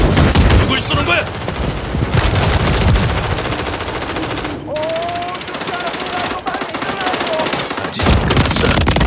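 Rapid automatic gunfire rattles almost continuously in a Call of Duty Modern Warfare 3 deathmatch, loud and close, with short gaps, while players talk over the shooting.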